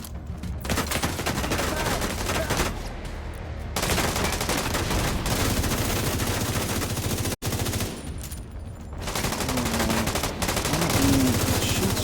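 Sustained automatic gunfire from a fast-firing weapon in The Division 2, loud and nearly continuous in long bursts with brief pauses between them.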